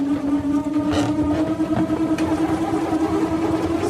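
A steady, rattling hum with a droning pitch, like a small motor whirring, from a nut spinning inside a balloon, holds continuously with fluttering noise on top.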